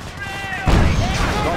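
Heavy gunfire and explosive bursts in the World War II strategy game Company of Heroes, defending Oosterbeek during Operation Market Garden; a dense, loud barrage kicks in abruptly partway through over a steady battle rumble.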